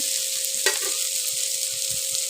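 Bitter gourd curry in a pan is stirred with a few scraping, clanking strokes over a steady close sizzle, no voices.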